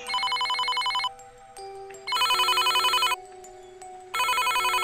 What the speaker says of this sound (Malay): tiba-tiba telefon berdering lagi